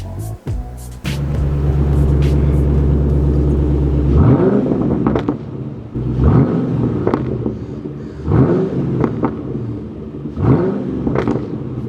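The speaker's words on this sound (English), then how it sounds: "I wanted to kind of talk about what's causing that popping and crackling sound to happen" A tuned Ford Mustang exhaust, heard from behind the car, gives a steady loud idle, then several revving bursts that each fall off into rough popping and crackling, repeated about four times.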